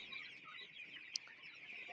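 Hens on a poultry farm, stressed from a feed cut and pecking one another, make a dense, steady chorus of squawks and clucks from a crowd, with one sharp louder call.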